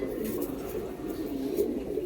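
Close, steady low cooing from a kalanka pigeon kept at a home loft, a continuous throaty murmur that carries on without pause.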